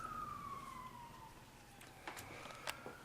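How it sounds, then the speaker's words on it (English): Police car sirens outside a theatre backstage area, heard faint and distant: a falling wail followed by a few short bursts over a low hum of traffic. "Those are cop sirens."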